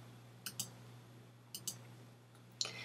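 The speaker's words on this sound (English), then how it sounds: "Here I'm going to go ahead and click update." Two pairs of crisp computer mouse clicks on an update button, then a single sharper click, each short and close against a low steady hum, with no talking.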